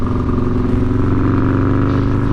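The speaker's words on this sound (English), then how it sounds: "Oh, I better get back in the throttle." A Harley-Davidson motorcycle is being ridden on the Foothills Parkway, its loud, deep engine thrumming steadily at a near-constant pitch while the bike cruises, with wind noise mixed in.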